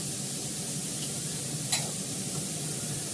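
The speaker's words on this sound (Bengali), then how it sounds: "অরহর ডালটা ফোড়ন দেবো" Tempering boiled arhar dal in a pan gives a steady, soft sizzle and fizz, with one brief louder spit near the middle, heard alone without talk.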